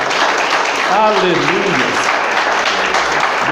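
Congregation applause during an evangelical church sermon, a broad steady wash of clapping heard under a loud voice calling out.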